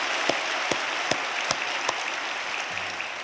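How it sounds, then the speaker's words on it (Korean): Steady congregation clapping during a Sunday church service fills the clip, dense and continuous, with a few sharper claps standing out at regular moments. "우리 다시 한번 하나님께 영광의 박수를 올려드리겠습니다"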